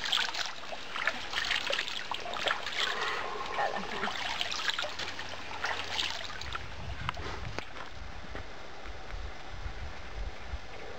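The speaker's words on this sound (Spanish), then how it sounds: "Ahí vemos a Nuri como se pega su mojadita en esa agua." Water flows steadily along a stream beside a hiking trail, a continuous rushing, trickling wash that holds evenly throughout with no voices.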